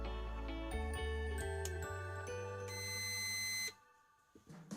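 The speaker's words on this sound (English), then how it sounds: "Then it's going to beep for 1 second." A timer on an automatic garage door closer gives a run of electronic beeps and tones. They play steadily for almost four seconds, then stop abruptly, leaving faint background noise.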